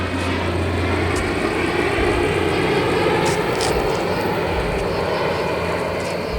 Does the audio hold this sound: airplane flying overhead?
yes